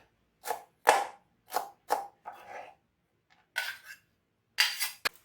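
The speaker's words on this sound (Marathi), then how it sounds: "प्रथम कोथिंबीरीचे देठ बारीक चिरून घेऊया." A knife chops coriander stems finely on a cutting board while prawn curry is being prepared. About eight crisp, close knocks come in an uneven rhythm, each separated by quiet.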